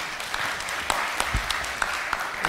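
An audience at a product development and innovation session gives its panelists louder applause, a sustained dense clapping with sharper individual claps popping out now and then.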